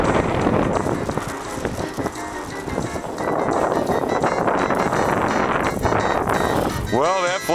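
Heavy wind buffets the microphone at a model airplane flying field with continuous rumbling and roaring gusts, and a voice speaks briefly near the end.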